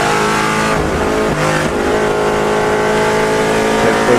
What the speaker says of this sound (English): car number 70, a Ford Mustang from 1969